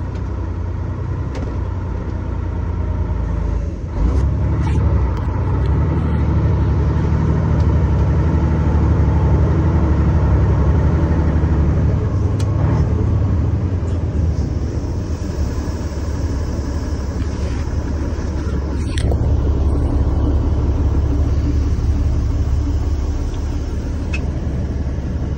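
A truck engine rumbles steadily as it pulls slowly onto a grain scale while hauling corn to town, a loud, close low drone with slight swells and a few clunks, no talking.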